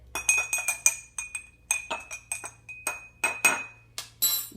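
A spoon stirs food coloring in a glass of water, giving a quick series of bright, ringing clinks against the glass at close range, with no talking.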